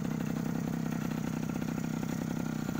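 A Stihl brush cutter engine idles steadily with a rapid, even putter. It sounds loud and close, with no voices.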